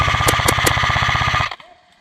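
Rapid automatic airsoft gunfire during a skirmish in the West Midlands, a steady loud burst of fast regular shots with a few sharper cracks layered over it, cutting off abruptly into quiet.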